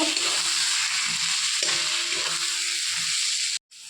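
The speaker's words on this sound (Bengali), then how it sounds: "পরিমাণ মতন লবণ, হলুদ, লঙ্কা গুঁড়ো, জিরে, ধনে একসাথে সব মিক্স করে ভালো করে কষে নেব।" Ground spices with salt, turmeric, chili powder, cumin and coriander sizzle and fry steadily in a hot pan with stirring scrapes, loud and continuous before cutting off abruptly near the end.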